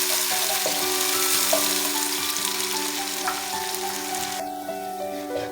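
Chopped onions fry steadily in a pan, a loud, dense sizzling hiss that holds throughout with occasional faint stirring clicks, easing slightly near the end.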